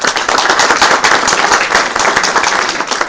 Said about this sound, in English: So let us give them another round of applause.